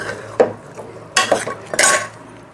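A plastic spoon stirs eggplant and tomato curry in a cooking pot, giving a few sharp, scattered clinks and scrapes, close and alone.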